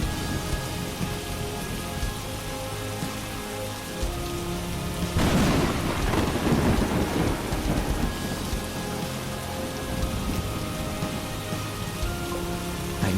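Heavy rain pours steadily throughout a thunderstorm, and a rumble of thunder swells in the middle before fading back into the dense, even hiss of rainfall.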